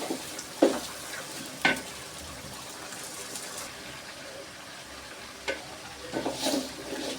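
Rice fried and stirred in a pan over medium heat for biryani, with a soft continuous sizzle and a few sharp scraping stir strokes spaced through the clip.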